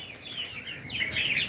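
Country hens kept among young ducks give a few soft clucks and murmuring calls close by, with a quiet background and no talk.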